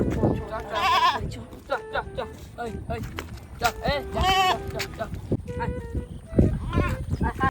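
Goats bleat repeatedly in short wavering cries, close by, mixed with people talking and some rustling movement.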